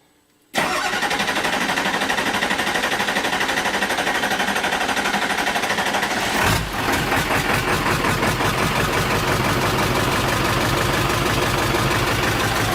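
Diesel 7.3 Powerstroke swapped into a 1972 Mitchell motorhome roars to life on its first start after a brief silence, then settles into a loud, close, rough rhythmic idle clatter that continues steadily with no talk.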